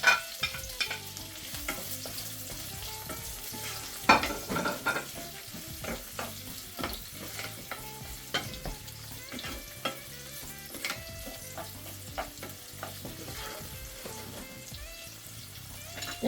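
Chopped onion goes into hot oil for chicken Manchurian and fries with a continuous crackling sizzle, broken by occasional spoon scrapes and clinks against the pan, close and moderately loud, no speech.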